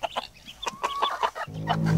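A chicken clucks in short, repeated bursts close by, a rooster's low clucking series with a faint hum in the background.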